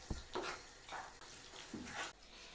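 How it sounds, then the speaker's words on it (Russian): Minced meat filling mixed with granulated garlic is stirred in a bowl, giving soft, wet squelching and scraping strokes in a steady rhythm, faint and close. "К фаршу можно добавить чайную ложку гранулированного чеснока. И еще раз хорошенечко все перемешать."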